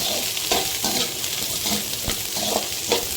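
Onions sautéing in hot oil for a drumstick-leaf stir-fry, a close sizzling hiss broken by several rhythmic bursts of scraping as a spatula stirs the pan.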